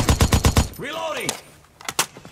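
SCAR rifle fire in America's Army: a quick run of about five sharp shots, then a sweeping whine and a couple more cracks a moment later, loud and close.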